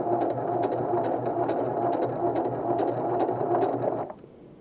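A Pfaff 140s/160s sewing machine stitches a blind hem with a steady, fast mechanical chatter and a rhythmic needle tick. It runs evenly for about four seconds, then stops and leaves a quiet hum.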